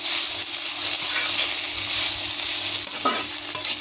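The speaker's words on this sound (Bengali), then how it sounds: "তরকারি ভালো করে নেড়ে দিতে হবে" Banana flower curry sizzles steadily in a pan as it is stirred, a close, even frying hiss broken by occasional spatula scrapes, with no voices.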